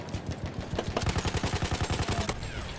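Gunfire in Battlefield 1, a rapid run of loud close shots in a steady rhythm lasting about a second and a half, set against battle noise, no talk.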